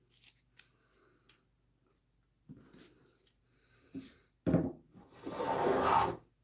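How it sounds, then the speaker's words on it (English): A spokeshave shaves wood clamped in a vise, giving a few short, soft scraping strokes followed by a louder, longer rasping pass near the end. "why don't you just throw something up in the vise and use the spoke shave for a bit?"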